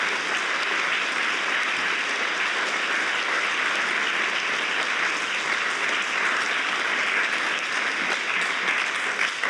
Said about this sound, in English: A big applause for all graduates, please.